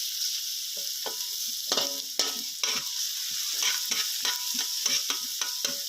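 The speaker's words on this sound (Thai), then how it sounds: "หลังจากนั้นก็ใส่แครอทลงไปนะครับ แครอทจะสุกยากหน่อยนะครับ ก็ผัดไปเรื่อยๆนะครับ" Carrots stir-fried in a pan, with a continuous moderate sizzle and frequent irregular clinks and scrapes of a spatula against the pan, close and without any speech.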